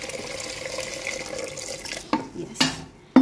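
Water poured into a pot of toor dal for a Hyderabadi khatti dal, a steady splashing stream followed by a few short clinks and splashes of the pot near the end.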